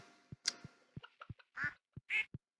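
Ducks quack inside a barn in the video game Stardew Valley: a quick series of short, close, clear quacks with a few longer nasal calls, alone without talk.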